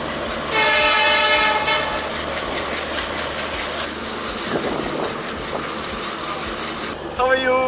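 A loud horn blast from the Rajdhani Express opens, then the train rumbles and clatters steadily along the rails at close range, a brief tonal sound rising near the end.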